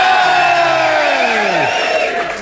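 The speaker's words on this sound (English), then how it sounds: "and a cheer for Mr. Mike Tindall" An audience cheers for a rugby player at a live rugby show, a loud sustained crowd roar with voices sliding downward before it tapers off.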